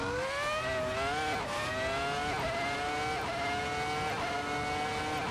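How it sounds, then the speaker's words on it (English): A 14-year-old race car's engine in Assetto Corsa whines at high pitch, with rising revs that drop and climb again in a stuttering pattern as traction control cuts in, loud and close. "That sound of the traction control."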